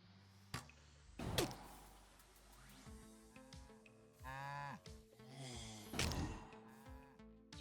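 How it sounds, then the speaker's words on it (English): A cow in the video game Necesse gives several drawn-out, fairly loud moos between sharp clicks and thumps from gameplay, with a low droning background. "What's you doing here, cow?"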